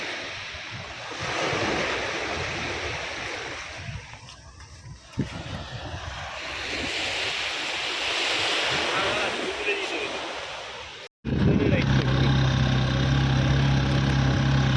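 Sea waves wash onto a beach with a broad, continuous roar, mixed with wind buffeting the microphone while riding along the shore. Near the end a steady motorbike engine hum takes over.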